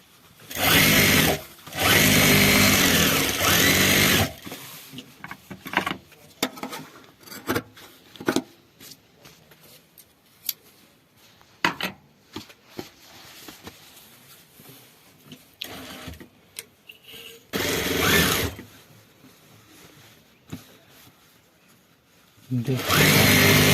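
A sewing machine stitches a trouser back pocket in short, loud bursts at the start, middle and end, separated by quieter handling of fabric and brief clicks.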